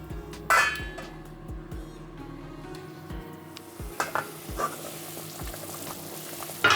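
Jamaican vegetable soup with meat boiling in a covered pot, a steady bubbling sizzle broken by repeated clinks and knocks from a spoon or lid against the pot.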